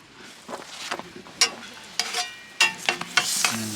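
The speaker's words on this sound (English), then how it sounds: "Flip our tortilla over." A tortilla is flipped and heated in a hot pan on an RV stove, giving close, fairly loud bursts of sizzling and scraping clatter at irregular intervals.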